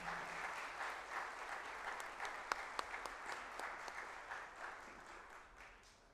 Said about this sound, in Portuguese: Eu queria uma salva de palmas a Dom Edinei, nosso bispo.